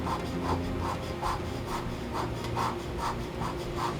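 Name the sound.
hand scraping a machine component surface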